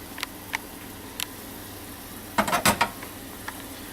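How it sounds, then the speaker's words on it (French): Small onions simmer in a reducing liquid for oeufs en meurette, a steady soft bubbling sizzle broken by a few sharp stirring clinks and a louder cluster of scrapes near the middle, with no voices. "On peut voir aussi que les petits oignons, le liquide commence à bien réduire. La cuisson est en train de se faire."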